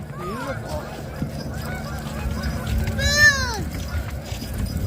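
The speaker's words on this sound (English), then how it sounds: "You could even hear geese honking too." Geese honk a few times at a moderate distance over a low steady background hum, heard from the Huckleberry Railroad train at nightfall, with a brief burst of calls standing out midway.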